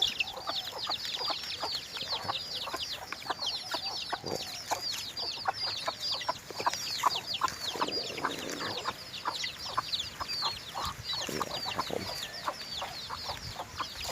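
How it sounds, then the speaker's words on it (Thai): Chickens, including chicks, cluck and cheep continuously at close range outdoors, a busy chatter of short calls with no talk. "อันนี้คือลูกไก่แก่ครับ"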